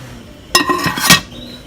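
A lid set onto a cooking pot of steak and ale chowder: a close metallic clank followed by a second ringing clink about half a second later, over quiet kitchen background.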